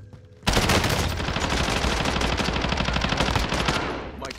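Sustained rapid gunfire from an MG82 machine gun in Call of Duty: Warzone, dense automatic bursts firing loudly and continuously for about four seconds before tapering off.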